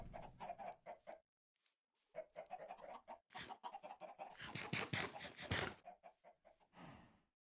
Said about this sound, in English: Alright, Mr. Chickens.